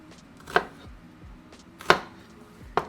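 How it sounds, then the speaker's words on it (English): Knife chopping an onion on a cutting board: three sharp, separate chops spaced about a second apart, close and clear, with no talking. "And then we're just going to chop it up."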